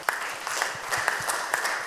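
A church congregation claps briefly for a priest, a soft, even patter of hands at moderate distance with a few sharper claps poking through.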